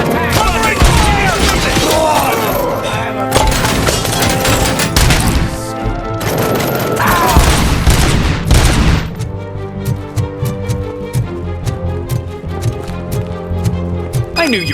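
Gunfire in the video game Robocop Rogue City, with dense bursts of shots and heavy impacts for about nine seconds, then sparser sharp single shots over steady game sound, with voices heard in the mix.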